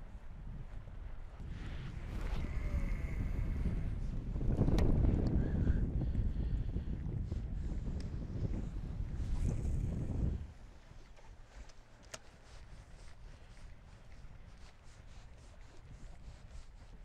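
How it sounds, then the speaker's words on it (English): Strong wind buffets an open fishing boat on the water, roaring steadily and close for about ten seconds before easing to a softer, lower rush. "This wind is really kind of bad."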